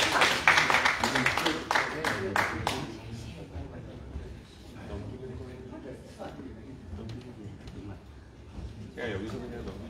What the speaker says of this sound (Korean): 위원장님 나오실 때 큰 박수 부탁드리겠습니다.